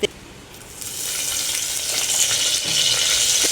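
Onion, cumin and bay leaf drop into a little hot oil. A brief clink is followed by a sizzle that swells quickly and holds loud and continuous.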